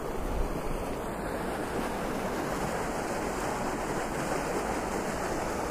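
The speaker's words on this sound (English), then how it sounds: "that Lagoon is clearly pumping water out" Water pours out of a beach lagoon at Three Shells Beach, a steady, continuous rushing wash with surf-like roar that stays unbroken and fairly loud throughout, with no voices.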